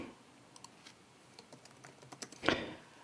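Quiet keystrokes tap on a computer keyboard in short irregular bursts, ending in a slightly louder cluster of clicks, close and alone with no talk.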